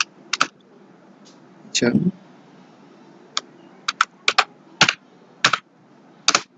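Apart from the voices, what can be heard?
typing a file name on a computer keyboard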